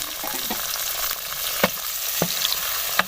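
Chopped tomato sizzling in hot oil with browned onions for Lahori chole, white chickpea curry, with a steady frying hiss and a few sharp scraping strokes of a spoon stirring the pan, close and alone.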